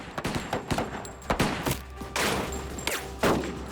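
Heavy gunfire in a crime reenactment of a shootout between armed suspects and police, with rapid sharp overlapping shots in bursts, loud and close.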